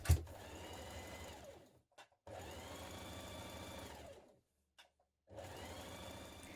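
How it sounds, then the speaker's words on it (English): A sewing machine runs a twin-needle top stitch on a shift dress in three steady, even bursts of motor whir separated by brief pauses, close and clear. "top stitch with the twin needle from the right side"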